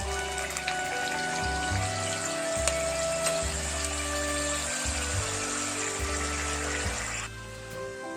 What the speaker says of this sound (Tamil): முட்டையெல்லாம் உடச்சி ஊற்றிக்கலாம்